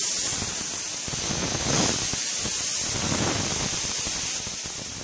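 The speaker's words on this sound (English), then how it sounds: "So we're going to release this damn nitro." Nitrogen is released from an HVAC line on a water source heat pump being leak-searched for a bad TXV: a loud, continuous, rushing hiss of escaping gas that holds steady for the whole five seconds with slight surges.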